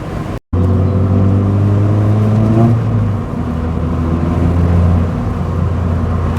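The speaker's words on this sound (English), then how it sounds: "Oh, that open exhaust is good fun." A Renault Wind's engine revs through a partly opened, freer-flowing exhaust, droning steadily then climbing in pitch before settling into a sustained cruising hum, heard close and loud with a momentary dropout at the start.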